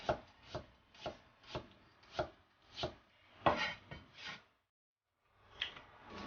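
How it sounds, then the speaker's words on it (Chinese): A knife chops celtuce into thin diamond-shaped slices on a board, giving about ten crisp, evenly spaced cuts at close range, a pause of near silence, then a few more cuts. "莴笋准备1条，用刀切成菱形薄片"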